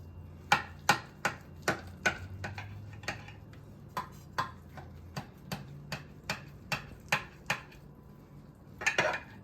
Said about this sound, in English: Now, I'm going to go ahead and cut it and put a piece in the plate